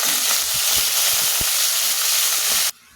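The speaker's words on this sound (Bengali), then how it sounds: "মাছগুলো আমি তেলের উপর দিয়ে দিলাম।" Chapila river fish fry in hot oil with a loud, dense sizzle, broken by a few soft taps from a utensil, until the frying noise cuts out abruptly near the end, no talking.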